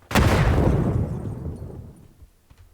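Grenade explosion in PUBG: a single loud, close boom with a sharp onset that rolls into a long, decaying low rumble.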